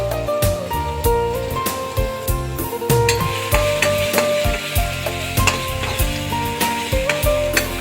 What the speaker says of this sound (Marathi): तेल गरम झालंय, आता आपण ठेचा टाकून घेऊया त्याच्यामध्ये.